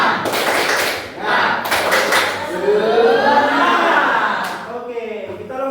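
A classroom group claps a rhythmic spirit-clap chant led by a teacher, with several sharp bursts of claps in unison and children's voices chanting and talking through the sequence.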